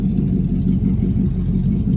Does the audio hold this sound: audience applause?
no